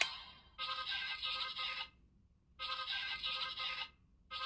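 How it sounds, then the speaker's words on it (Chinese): A Kamen Rider Gavv DX toy phone plays its incoming-call ringtone as two bright, electronic ringing bursts separated by a short silence, close and clear with no speech. "会有这么样一个来电音效，"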